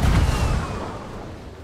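A single heavy boom of a ship's cannon in the game Sea of Thieves hits at once and then fades into a low rumbling tail.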